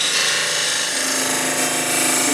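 A long-handled fluted thin parting tool cuts into exotic Palo Santo wood spinning on a lathe during box turning, producing a loud, steady buzzing, chattering whine that runs unbroken.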